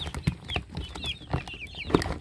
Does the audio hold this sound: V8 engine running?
no